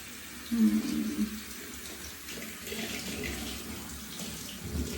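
Tap water runs steadily into a sink in an apartment while someone waits for it to turn hot. The flow is a continuous splashing hiss, fairly close and moderately loud, with no speech over it.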